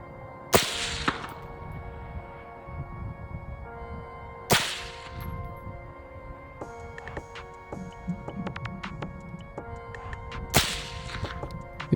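Three sharp, loud rifle shots spaced a few seconds apart while zeroing a red dot sight on a rifle at an outdoor range, each crack followed by a brief echo, with faint background clatter between shots.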